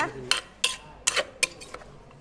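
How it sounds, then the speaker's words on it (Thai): Papaya salad with crab and fermented fish being scooped onto a plate at a Thai restaurant: five or six sharp clinks of a spoon against the dish, close and fairly quiet, with brief soft scraping between them. "ตักใส่จานเลยนะคะ"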